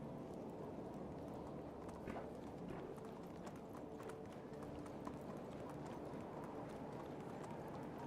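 Horse hooves in the video game Medieval Dynasty beat a rapid, steady galloping clip-clop throughout, loud and close over a constant background.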